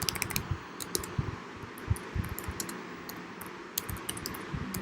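Fingers type Python code on a computer keyboard in quick, irregular bursts of crisp clicks, with a faint fan hum beneath, close by and with no speech.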